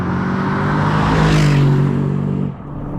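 An Aston Martin DBX SUV engine revs hard and climbs in pitch, loud and close, then eases off sharply near the end.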